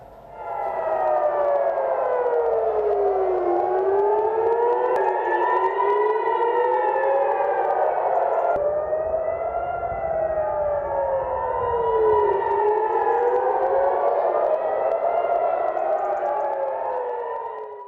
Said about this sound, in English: Over in Israel, you can hear the air raid sirens ring.